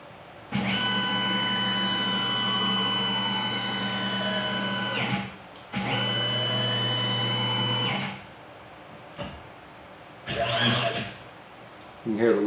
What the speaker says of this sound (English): You can hear the limit switches still stop.